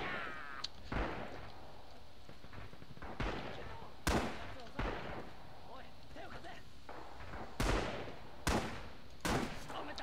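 Mounted machine gun fire in Red Orchestra 2, a WWII shooter, heard as sharp irregular bursts and single reports among broader battle noise, some shots close and loud, with voices talking intermittently.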